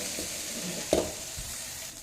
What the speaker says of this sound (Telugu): మధ్య మధ్యలో అడుగంటకుండా ఇలా తిప్పుతూ చిన్న మీద వేయించుకోవాలండి